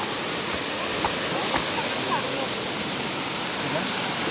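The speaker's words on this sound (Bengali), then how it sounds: "অনেক উঁচু ঝর্ণা।" A tall waterfall roars as a steady, dense wash of falling water, continuous and moderately loud, with faint voices in the background.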